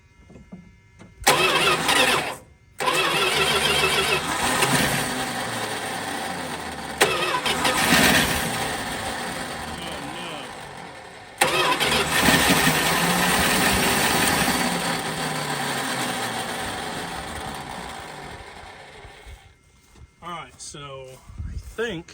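An abandoned 1979 Chrysler Cordoba engine cranks and catches several times, running roughly in loud bursts that die away between attempts before a long stretch of rough idling, with a voice talking briefly over the noise.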